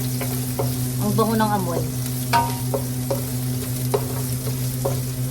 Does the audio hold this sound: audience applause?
no